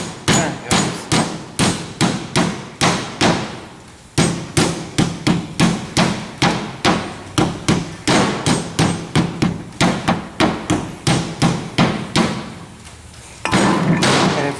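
Sharp, loud hammer blows ring out against a metal hopper bottom in a steady, rapid rhythm, continuing for many strikes with a brief pause partway through and no talking.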